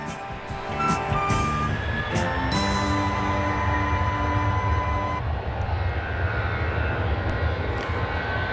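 A Boeing 737-700 jet at Dallas Love Field roars steadily throughout, a sustained broad engine rumble with a tonal whine that shifts partway through, close and loud.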